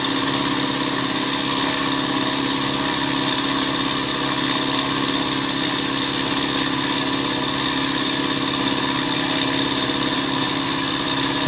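A milling machine turning at 1000 RPM cuts a tooling plate with a continuous, even mechanical drone and whine that holds steady at moderate loudness with no breaks.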